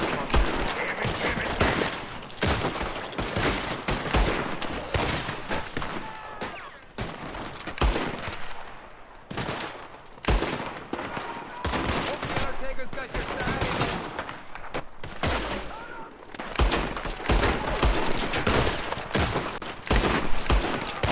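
Repeated gunfire bursts in Red Dead Redemption at an enemy camp, sharp cracks scattered across the whole stretch, with game music and effects beneath.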